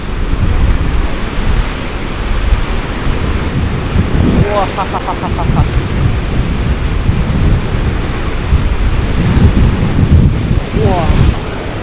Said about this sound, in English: These are waves.